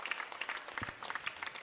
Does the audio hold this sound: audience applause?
yes